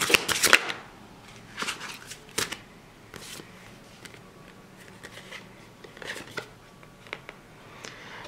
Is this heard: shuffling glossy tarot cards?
yes